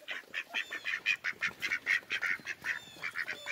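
Rapid, repeated quacking from a group of ducks, fairly close, in a steady run of short calls with no talking.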